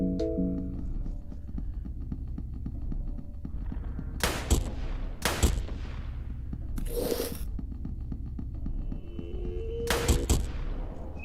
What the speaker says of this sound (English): If we use the rifle, it'll be better,